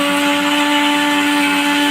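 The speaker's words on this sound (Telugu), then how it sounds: "ఫస్ట్ కొబ్బరి ఆడించుకుందాము. కొబ్బరి గట్టిగా ఉంటుంది కాబట్టి మెదగడానికి టైం పడుతుంది." A mixer grinder whirs steadily at full power, grinding hard coconut with cinnamon, cloves and a spoon of salt; a loud, even, close motor drone with a constant hum holds unbroken throughout.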